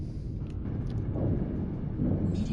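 Meteor storm in a colony-building video game, heard as a continuous low, close rumble like distant thunder that swells slightly toward the end, with faint higher crackles on top and no talking.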